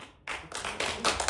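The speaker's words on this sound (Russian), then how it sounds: "Сейчас были аплодисменты, которые поддерживают ваше выступление" Applause from an audience backing an admiral's speech, dense hand clapping that starts abruptly, builds in loudness across the moment and carries on steadily, with no talking over it.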